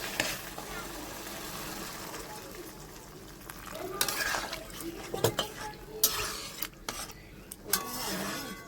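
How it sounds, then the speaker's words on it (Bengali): Fried prawns tipped into a pan of spiced Bengali coconut milk curry give a few scattered clatters and scrapes of utensil against pan, with spoon knocks over a low kitchen hum and background noise. "এইবারে আমি যে চিংড়ি মাছগুলো ভেজে রেখেছিলাম সেগুলো দিয়ে দিচ্ছি।"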